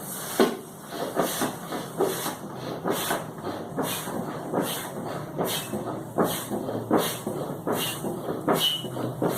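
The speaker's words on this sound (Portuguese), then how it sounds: "O que eu vou fazer agora é encher uma bexiga, não usando o ar que vai sair dos meus pulmões, mas um pedal." A rubber balloon is pumped up with a foot pedal pump, giving a steady run of rhythmic hissing air bursts, roughly one per second, close and fairly loud with no talk.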